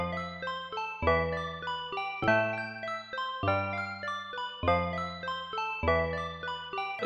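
Two interlocking melodic lines of bright, wooden-toned African bars notes play together, one low and one two octaves higher and faster, in a steady repeating loop.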